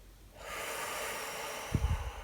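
A long, airy breath drawn in close to the ear, steady and broad, ending in a few short, rough nasal puffs.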